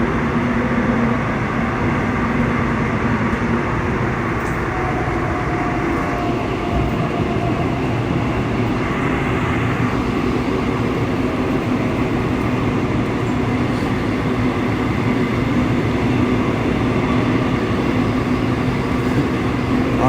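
Steady rumble and rattle of a subway car riding through Seoul, continuous and fairly loud throughout with no talk.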